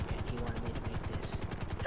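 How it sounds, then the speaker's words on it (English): A helicopter in GTA fills the sound with a fast, steady rotor chop, close and continuous, with even rhythmic pulses from start to finish. "There's another helicopter right here."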